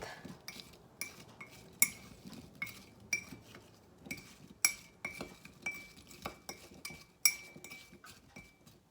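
A spoon clinks and scrapes against a ceramic mug while mixing apple cake batter, in a quick, uneven rhythm, close and fairly quiet, with no voices.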